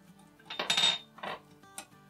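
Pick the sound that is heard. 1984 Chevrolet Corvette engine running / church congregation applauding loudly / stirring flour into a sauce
stirring flour into a sauce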